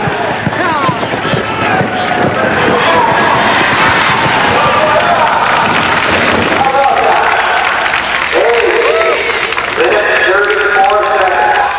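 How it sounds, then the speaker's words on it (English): A crowd cheers at a mule pull, with loud, continuous mixed shouting and clapping throughout and a voice talking over the noise. "Come on, let's cheer him on there."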